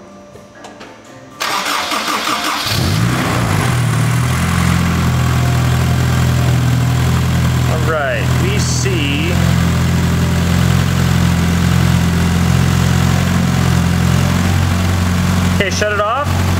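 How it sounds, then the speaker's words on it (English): A cold Honda S2000 engine cranks briefly, catches and settles into a loud, steady idle that runs on up close, with a few brief mechanical squeals over the hum. "we're gonna start it up and see what kind of oil pressure we have."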